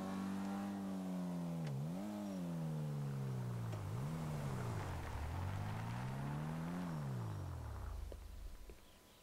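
A car engine in a PS5 driving game revs and shifts repeatedly, pitch climbing and dropping in several sweeps, loud and steady, then winding down and fading near the end with no talk over it.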